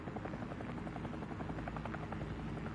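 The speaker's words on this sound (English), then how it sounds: "Helicopter here." Steady, loud helicopter rotor thrum from a battle royale video game, droning without pause throughout and sitting close and dominant in the mix.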